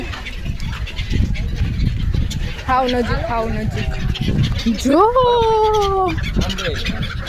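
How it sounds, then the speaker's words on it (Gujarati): Outdoor bird calls on a seashore, including a couple of rising honking or quacking notes like ducklings, sound close by amid steady background noise while a person talks over them. "એટલા મસ્ત પંખીડા આવી ગયા છે દરિયા કિનારે"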